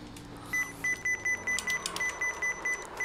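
A string of short, evenly spaced electronic beeps repeats over a steady hum of engine noise in a racing game stream of an Output Racing League round at Homestead Miami Speedway, the tones loud and regular for most of the clip.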